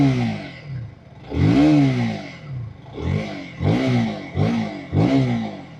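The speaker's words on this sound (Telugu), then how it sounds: "ఒకసారి రివ్ ఇస్తాను." A KTM RC 160 motorcycle engine is revved repeatedly up close: one long rising blip, then four quick sharp throttle bursts in a row, each falling back toward idle, with a loud, raspy exhaust note and no talk.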